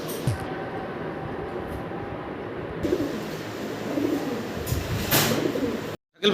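Pigeons coo softly against a steady low background rumble, with no talking.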